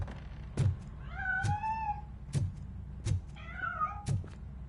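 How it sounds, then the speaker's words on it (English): A cat in RoboCop: Rogue City meows twice in drawn-out, wavering calls, close and clear, between sharp thuds that repeat roughly every second. "That cat must be hiding inside."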